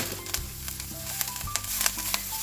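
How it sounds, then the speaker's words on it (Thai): Kale going into a pan of frying garlic, giving a steady, close, bright sizzle with soft crackles and a few stirring clatters, no talking. "พอกลิ่นกระเทียมหอมขึ้นมาแล้วเราก็ทยอยใส่ ผักเคลลงไปเลยค่ะ"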